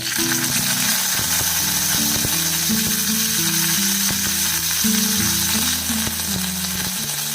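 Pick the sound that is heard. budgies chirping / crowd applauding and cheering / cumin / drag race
cumin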